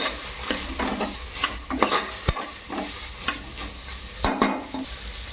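Carrots and beans frying in oil as a spoon stirs them, steady crackling sizzle broken by repeated scraping strokes and a few sharp knocks against the pan.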